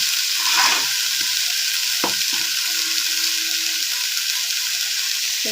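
Green chillies frying in hot oil with salt and turmeric added: a loud, continuous close-up sizzle with a brief stir and a few soft knocks, no talking.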